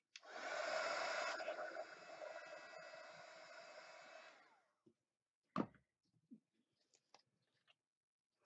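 A hair dryer or heat gun blasts steadily for about four seconds at close range during mixed-media sign crafting, then cuts off, followed by scattered small clicks and handling noises.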